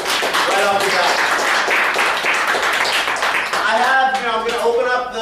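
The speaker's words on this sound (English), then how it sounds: "I'd like to get a round of applause right off the bat." Audience applause at a comic con diversity panel, a steady broadband wash of clapping lasting several seconds, with a voice speaking over it.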